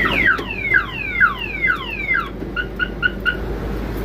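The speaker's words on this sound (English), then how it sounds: "The alarm is not happy with the low voltage." A car alarm on a barn-find car protests low battery voltage: a series of loud, close, descending electronic chirps, then a string of short, evenly spaced beeps.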